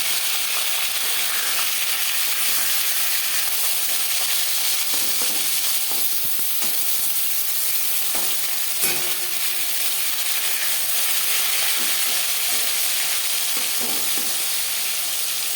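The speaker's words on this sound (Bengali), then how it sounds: "মাছ একটা সাইড ভাজা হয়ে গেলে অপর সাইড উল্টে দেবো।" Pieces of rohu fish fry in hot oil with a dense, steady sizzle and crackle that holds loud and close for the whole stretch, with scattered small pops and spatters.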